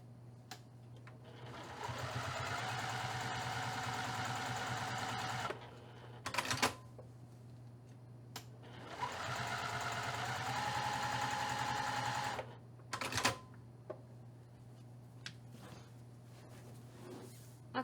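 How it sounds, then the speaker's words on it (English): A sewing machine stitches seams a quarter inch from the edge on a quilt-as-you-go patchwork rainbow for a bag, running in two steady bursts of several seconds each, separated by brief handling clicks and a quiet pause. "I'm going to stitch this 1/4 of an inch away from the edge on either side of the seam."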